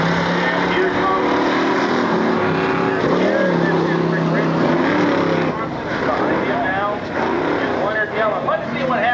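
Race cars, including a Chevelle El Camino, roar around a dirt off-road course at a Lake Odessa, Michigan Class 6 event in 1996. Loud layered engine drone rises and falls under an announcer's commentary.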